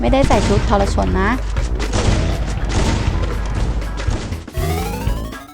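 Sniper rifle shots and rapid gunfire in the Free Fire battle royale game, sharp repeated cracks and booms over busy game sounds, with people talking loudly throughout.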